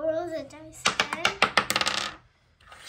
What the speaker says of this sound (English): Now I'll roll the dice again.